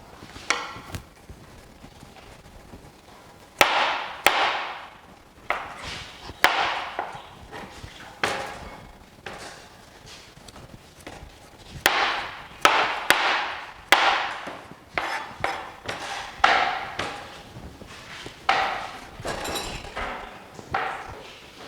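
A knife chops courgette (zucchini) on a cutting board in a kitchen, giving sharp, close knocks in uneven bursts, sometimes rapid runs of strokes and sometimes single cuts, with short pauses between.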